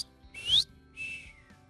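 Someone whistles two short, bright tones separated by a brief pause, the first rising into a sharp peak and the second level and softer, heard close and with no talking.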